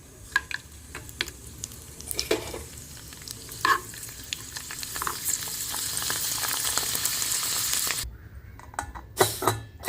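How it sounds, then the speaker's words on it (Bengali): Papad (poppadoms) frying in hot oil in a home kitchen, a steady close crackling sizzle with scattered pops and clinks, then a brief near-silent pause before the sizzle and sharp clatters return near the end. "সিটিটা বসতে বসতে আমি কটা পাঁপড় ভেজে নেব"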